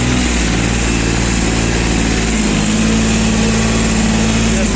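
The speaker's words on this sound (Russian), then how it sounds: "Без проблем трактор берет и держит обороты" Japanese used three-cylinder diesel mini tractor engine running close up, a loud, steady mechanical chug with a constant low pulse and even revs throughout.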